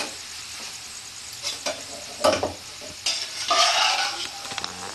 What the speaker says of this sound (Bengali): আমি আগে কাবলি চানাটা দিয়ে কষবো জলটা পরে দেবো